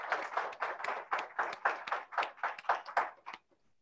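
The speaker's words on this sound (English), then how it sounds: "I hope you can give us a round of applause for the incredible work." An audience at a talk event claps in rapid bursts for about three and a half seconds, fairly close and steady, then stops abruptly, leaving near silence.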